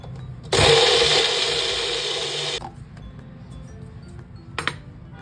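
A mixer grinder grinding soaked basmati rice to a fine paste, a loud steady whirring roar that runs for about two seconds and then stops, followed by a short clink.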